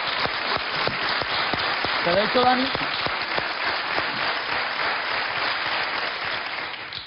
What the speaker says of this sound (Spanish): Yo voy a pedir un aplauso para nuestro cocinero